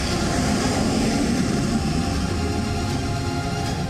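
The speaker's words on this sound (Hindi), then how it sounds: "और इसके ठीक बाद फ्लाई पास्ट करते नजर आए 4 रफाल लड़ाकू विमान।" Four Rafale fighter jets make a parade flypast over France: a steady, loud roar of jet engines that fills the whole stretch with no break and no voices.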